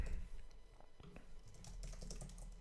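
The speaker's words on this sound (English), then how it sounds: "I have to type this out." Keys clatter on a computer keyboard in quick, uneven bursts of close, light clicks during a live coding session, with a faint background hum.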